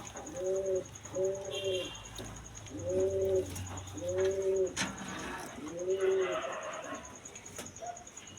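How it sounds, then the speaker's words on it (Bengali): A female Nun pigeon cooing in a steady series of low, rounded calls, about five phrases close by, with a faint high whine running underneath. "এখানে দেখছেন একটি সিঙ্গেল নান কবুতর, এটি একটি ফিমেল কবুতর"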